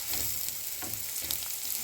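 Onions frying in a pan with chilies, thyme and curry leaves for a lamb mince filling: a close, dense sizzle with soft bursts of crackle from stirring.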